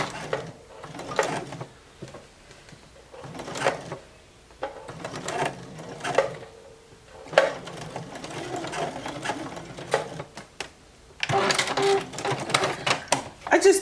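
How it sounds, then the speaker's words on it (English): Juki HZL F600 sewing machine stitching lace onto fabric, running in repeated short bursts with gaps, close and clear, ending in a longer faster run. "I just did a few stitches just to show you how you can attach lace to fabric."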